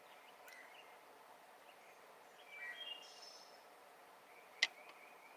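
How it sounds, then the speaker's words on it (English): Faint, sparse bird chirps in a quiet outdoor setting, with a brief sharp tick near the end. "I like hearing the birds."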